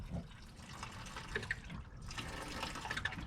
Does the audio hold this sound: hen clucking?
no